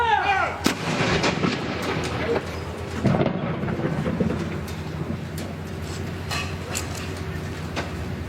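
Artillery guns fire a ceremonial salute outdoors, one heavy booming report after another with rumbling echoes rolling between shots, loud and spaced apart.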